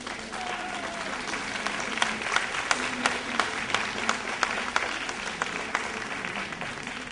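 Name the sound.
audience applauding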